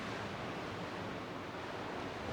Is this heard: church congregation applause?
no